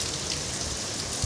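Steady rain falling outdoors during a monsoon shower, a dense even hiss of drops on surfaces that continues unbroken, close and moderately loud, with no voices.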